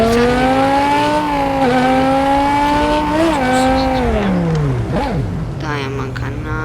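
A car engine revving in a car parking video game, loud and continuous, its pitch climbing and dipping through gear changes, with a brief tire squeal near the end.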